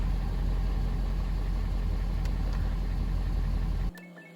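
A 2017 Ford F-250 truck engine idles with a steady low rumble while the transmission is cycled through its gears, the sound holding constant before cutting off abruptly near the end.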